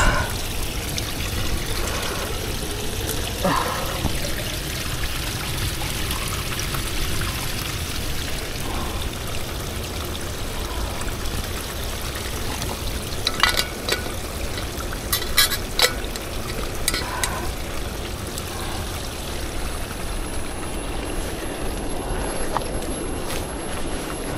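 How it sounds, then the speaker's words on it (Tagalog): Water trickling from a mountain spring water source on the trail to Mindamora Falls in Bukidnon, a steady soft splashing and pouring stream with brief brighter drips and gurgles. "meron kang makukuha na tubig or yung tinatawag na water source"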